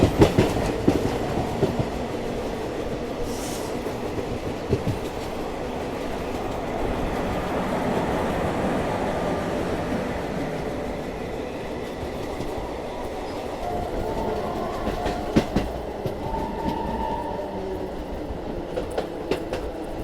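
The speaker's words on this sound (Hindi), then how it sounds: "शाम के 5 बजने वाले हैं और अपनी ट्रेन पहुंच रही है कोसी कला।" A special passenger train running from Delhi to Prayagraj rumbles steadily from onboard, with continuous wheel-on-rail clatter and occasional rhythmic clicks over twenty seconds, no voices.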